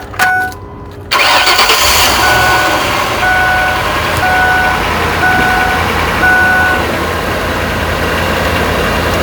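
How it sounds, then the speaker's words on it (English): A Ford fleet van with a misfire cranks briefly and then catches. The engine settles into a steady, fairly loud idle, with a repeating electronic chime pulsing over it. "I'll start her up."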